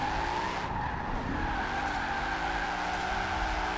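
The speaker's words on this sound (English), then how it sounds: "just have a little laid back freestyle drift session in the city" Tires skid and squeal steadily through a long drift in Forza Horizon 4, a car sliding sideways around city streets with a sustained engine drone underneath, loud and continuous with no talk.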